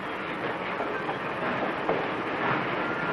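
A passenger train rolls past at close range with a steady, dense rumble and faint rhythmic clatter of wheels on rails, continuous throughout with no voices.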